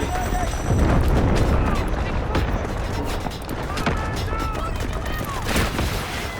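Rapid bursts of gunfire and heavy grenade explosions in the video game Delta Force crackle and boom continuously, dense and chaotic, with voices mixed underneath.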